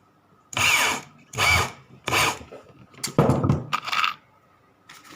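Power drill driving screws about two centimetres long down through a shoe's rubber sole edge, five close whirring bursts in a steady rhythm, the later ones shorter and choppier, no talk.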